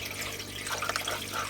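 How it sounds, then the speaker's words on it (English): Water flowing through an aquarium gravel cleaner pipe and splashing into a bucket, a steady close trickle that swells into a fuller gush partway through. "the water's going up the pipe now, and now we've got it flowing into the bucket"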